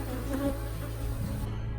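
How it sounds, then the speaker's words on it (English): A swarm of honey bees buzzes densely around a hive in a bee yard, a steady close drone that fills the brief moment before cutting off. "that was a lot of bees"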